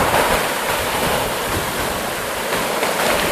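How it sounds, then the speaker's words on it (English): Steady broadband surf roars on the expansive Big Sand Beach at Gairloch, waves washing in continuously with a windy hiss, loud and close, no voices. "Here at the expansive Big Sand Beach in Gairloch"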